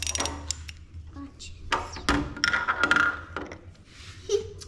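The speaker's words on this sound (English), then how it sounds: "Ratchets feel nice." A ratchet from a Quinn mechanic tool set clicks in short, close bursts of metallic ticking, with brief pauses between the runs.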